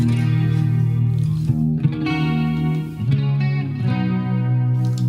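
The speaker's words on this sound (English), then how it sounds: "We also want to get my little Leslie speaker going" Sustained guitar chords swirling through a Leslie rotating speaker, the tone wavering and pulsing as it rings out, no voices.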